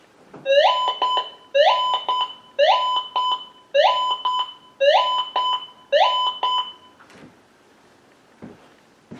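A GM 1000 metal detector's loud electronic warbling tone repeats six times in a steady rhythm, each burst a rising chirp, a ghosting signal, then quiet with faint clicks.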